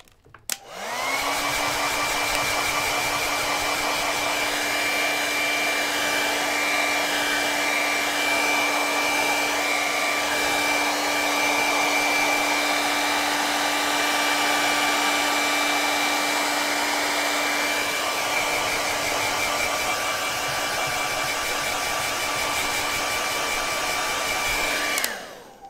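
A hair dryer drying an acrylic painting roars steadily for about twenty-five seconds, a loud, constant whooshing blast with a steady motor whine that starts and stops abruptly, with no talking.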